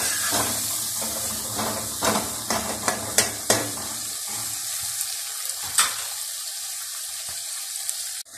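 Chicken sizzles as it fries in a tomato masala, a steady hiss broken by sharp clinks of stirring, then the frying settles to a quieter sizzle near the end.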